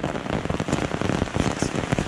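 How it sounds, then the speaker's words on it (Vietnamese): Steady rain pours down outdoors at dawn, a dense, even patter of drops on surfaces, close and continuous with no voices. "Mưa thế này thì chuẩn bị cấy thôi."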